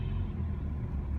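A car drives along a road in steady traffic, its low engine and tyre rumble constant and close, with no voices.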